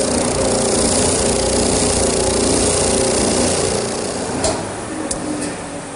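A power saw cuts out a wooden Queen Anne table leg, a continuous buzzing drone that holds steady and eases off toward the end, with a few sharp ticks.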